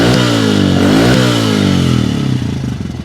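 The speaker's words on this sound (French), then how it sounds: "Qu'est-ce que ça craque ce bolide" A motorcycle engine revs loud and close, its pitch sweeping up and down through strong harmonics before settling into a rough, lumpy idle, with no voices over it.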